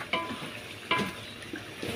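Food fries in a pan for a homemade Christmas dish with sauce, giving a close sizzle broken by a few sharp stirring scrapes and clatters.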